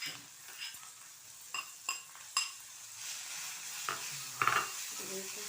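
A spoon stirs ingredients frying in ghee in a pan for payasam, with soft sizzling and a few distinct scraping clinks of utensil against the pan, close up.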